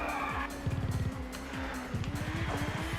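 Race car engines rev at Snetterton with rapid gear changes and rising, falling revs, as Audis close in on a teammate. A loud, busy onboard roar with tire noise.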